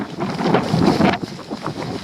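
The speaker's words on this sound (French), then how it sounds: "on a un super vent latéral qui nous pousse" Strong crosswind buffets the microphone during a night trail race, a steady broadband rush with gusty swells throughout, loud and close, with no voices.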